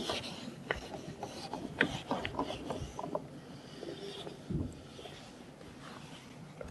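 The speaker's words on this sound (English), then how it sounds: "So I'm going to rub these out for now." Chalk or marker writing being rubbed off a classroom board, a soft, uneven scrubbing and rasping with a few louder strokes, fairly quiet and close, with no talking.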